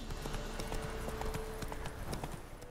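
A horse's hooves clip-clop steadily along in The Witcher 3, a brisk, even rhythm of close hoof strikes under a constant bed of game ambience and faint music.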